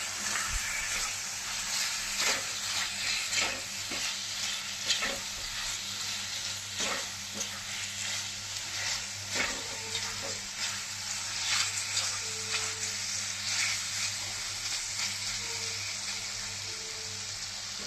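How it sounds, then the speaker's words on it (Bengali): Fried garlic chicken pieces sizzle steadily in a hot pan while a utensil stirs them, with a continuous close hiss punctuated by repeated scraping knocks. "এখন ভালো করে নাড়িয়ে নিচ্ছি।"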